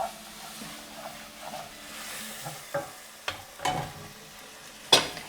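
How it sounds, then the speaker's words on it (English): Potatoes and drumsticks dry roast in a pan for an Indian drumstick curry: a faint sizzle with scattered stirring scrapes, building to a sharper clank near the end. "She's going to try and dry roast them, so just get a little bit of color and a bit of roasting into the potatoes"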